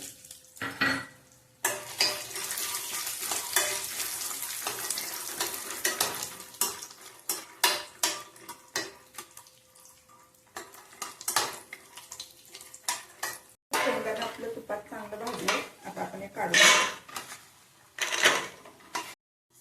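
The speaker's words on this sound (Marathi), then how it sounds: "शेंगदाणे भाजून घेऊया" Peanuts are dry-roasted in a pan, their shells rattling and scraping under repeated stirring strokes, with intermittent clinks of a spatula against metal and brief pauses between bursts.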